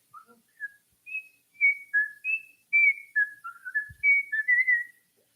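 A person whistles a short, wandering tune up close, with clear separate notes rising and falling in an unhurried rhythm and nothing else around.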